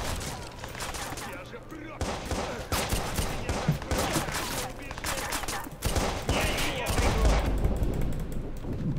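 Rapid single-round gunfire in the Watch Dogs video game, a steady stream of close, punchy shots with short gaps, with a voice speaking intermittently underneath.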